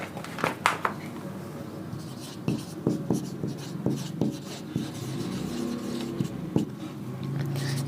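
Chalk or marker writing on a board during a university mathematics lecture on relativity, heard as intermittent taps and scratchy strokes in a steady rhythm against room noise, with some faint voice in the background.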